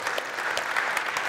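Audience in a hall applauding and cheering for a guest pointed out in the crowd, a dense wash of clapping and raised voices at steady, moderately loud level throughout.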